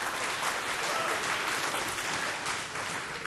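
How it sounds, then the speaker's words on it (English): A lecture hall audience applauds a student who has volunteered to come up in front of them, a short, dense burst of clapping that stays even and loud throughout. "Short applause for Laurens for having the guts to try it here in front of the audience"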